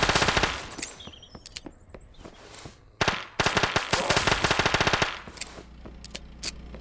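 A Scorpion VZ61 submachine gun fires rapid bursts in the video game Those Who Remain, loud and close, with short pauses between strings of quick shots.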